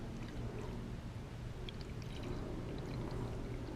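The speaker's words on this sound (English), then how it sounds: "I'm just gonna carefully pour in the brake fluid." Brake fluid is poured through a funnel into the reservoir of a Ford F150, making a soft, continuous liquid trickle that stays faint and even throughout.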